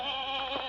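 A single brief, wavering bleat from Arthur the goat at a circus, close and clear with no talk over it.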